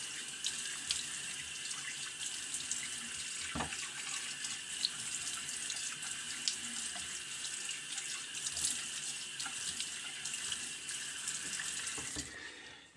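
A bathroom tap runs steadily into a sink for a rinse during a wet shave, a constant close hiss of flowing water that stops abruptly at the very end.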